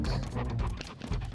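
A pet dog pants quickly and steadily at close range in a home kitchen, a continuous breathy rhythm with faint low household rumble.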